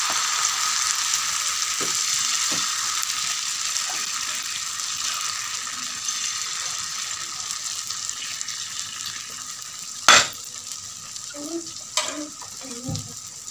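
Malpua batter frying in hot oil, a steady close sizzle throughout with a few clicks and a sharp utensil knock near the end, no talking.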